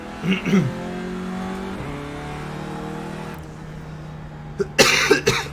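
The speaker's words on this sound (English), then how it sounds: "Try and get all my coughing done now." A couple of short coughs sound close by at the start and again near the end, over a steady racing-car engine drone from the iRacing simulator.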